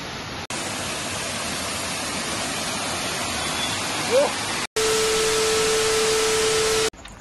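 A waterfall in the Konkan countryside pours as a steady, loud broadband roar. The rushing water fills the whole clip, and a brief faint whistle-like tone is heard partway through.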